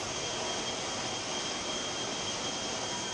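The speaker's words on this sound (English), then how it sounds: "the catapult system, which is used to launch aircraft safely from the bow of the ship" A jet aircraft roars during a catapult launch from the bow of an aircraft carrier, a steady, dense, loud engine blast that holds constant throughout with no speech.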